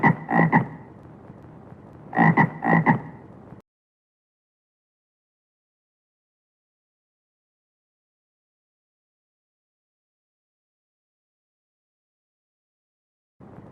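Two loud, close frog croaks, each a rough rasping burst of about a second, come in quick succession before long silence, with a faint start of another croak at the very end.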